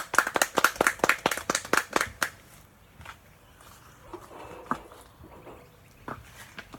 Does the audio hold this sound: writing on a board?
no